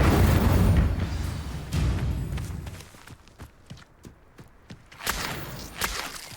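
Incendio fire spell casting in the Hogwarts Legacy video game, heard as heavy whooshing bursts and booms followed by a rapid series of sharp cracks and pops, loud and close.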